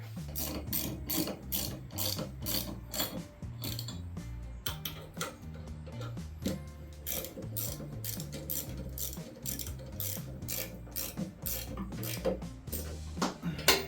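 Hand ratchet tightening nuts on a Country Clipper zero-turn mower, a rapid steady series of clicking pawl ticks in repeated strokes, close and fairly quiet, with no voices.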